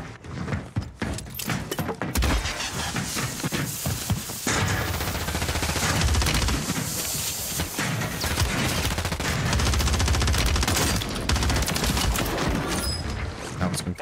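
Sustained, dense gunfire fills a Warzone 3 match, with sniper shots mixed into continuous automatic bursts at close range and hardly a pause from start to finish.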